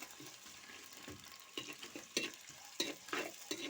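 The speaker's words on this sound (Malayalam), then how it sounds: "ഇനി ഇതിലേക്ക് ചെറിയ വെളുത്തുള്ളി ഇട്ട് കൊടുക്കുക അതും നല്ല അത്യാവശ്യം നല്ലോണം വയറ്റി കൊടുക്കുക" Garlic frying in a pan on a stove for a Wayanad-style fish head curry with kudampuli, a soft steady sizzle broken by quiet, rhythmic scrapes and clicks of stirring, faint and close.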